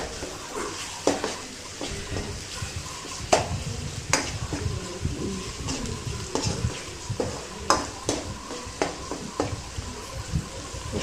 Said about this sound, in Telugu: కొంచెం పచ్చివాసన పోయే వరకు అల్లం వెల్లుల్లి పేస్ట్ వేగాక